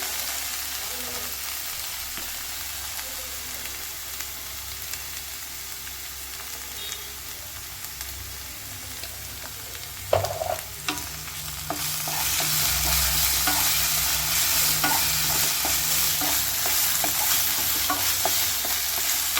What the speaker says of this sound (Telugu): కొంచెం ఏగనిద్దాం. ఇంకా వేగింది కదా